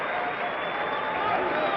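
Crowd applause and cheering in an arena at a 1992 USA versus Croatia basketball game, a dense steady roar of clapping lasting the whole brief moment.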